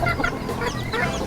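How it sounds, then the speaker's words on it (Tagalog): Chickens clucking in a rural backyard in Aloguinsan, Cebu, a few short, close clucks in an irregular rhythm. "Kadungog ang manok."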